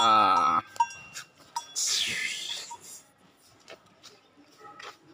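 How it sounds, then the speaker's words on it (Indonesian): A clanking, bell-like tone from a cendol and fruit-ice vendor's cart bell rings out briefly at first, followed by scattered knocks and clatters, with faint voices in the background. "dikira sapi lewat ternyata dia tukang es es buah Mang Didi ya"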